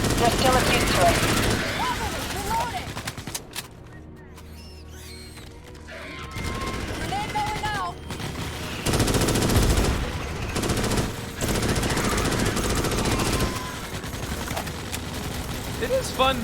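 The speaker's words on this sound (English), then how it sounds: "It is fun just shooting stuff" Rapid bursts of automatic gunfire from the video game Starship Troopers: Extermination, loud and near, coming in dense volleys with brief lulls, mixed with crashes and game effects.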